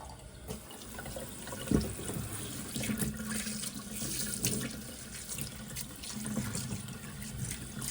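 Tap water runs steadily into a sink as a hairpiece is wetted under the faucet, a continuous splashing rush with a brief louder knock partway through.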